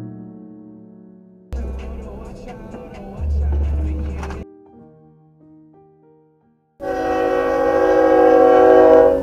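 A freight train passes a road crossing while a vehicle waits, rumbling heavily before a loud, sustained horn blast sounds close by near the end.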